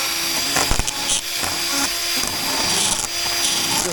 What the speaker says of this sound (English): I put it on a drill so it wouldn't run too fast